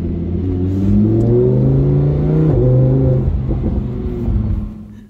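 Lamborghini engine revving loudly nearby, a deep, throaty roar that rises and falls in pitch over about five seconds before easing off at the end, with no talking.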